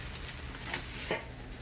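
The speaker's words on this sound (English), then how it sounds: "So I've been stir frying for a couple minutes" Fried rice stir-fried in a hot pan gives a soft steady sizzle, with a couple of faint scrapes from a spatula stirring and no talking.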